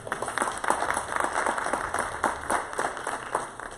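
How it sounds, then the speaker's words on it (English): A crowd at a school board meeting claps steadily, a dense patter of applause that holds at an even level for a few seconds with no voices over it. "Let's give our board a big round of applause."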